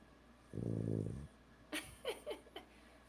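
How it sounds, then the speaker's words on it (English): A single drawn-out rumbling snore from a small animal, fairly close, followed by a few soft snuffles and sniffs. "People don't want to hear you snore."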